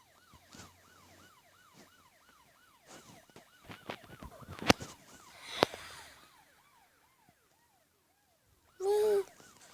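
Police siren from a Lamborghini cop car in the Asphalt Nitro racing game, a steady two-tone wail cycling quickly and evenly, with a few sharp crashes and scraping hits midway and a short loud burst near the end, no talking.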